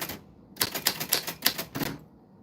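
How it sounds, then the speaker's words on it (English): Close, crisp keystrokes on a vintage typewriter, about a dozen sharp clacks in an even burst of under two seconds, then quiet. "it's Friday night type night where we type on this vintage typewriter"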